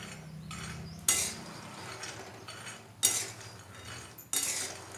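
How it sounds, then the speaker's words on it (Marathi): Two bowls of peanuts are dry-roasted in a hot kadhai and stirred, making a steady rattling scrape with three sharp metallic clanks of the spoon against the pan. "इथे कढई गरम करत ठेवली आहे आणि त्यामध्ये 2 वाट्या शेंगदाणे घेतलेत"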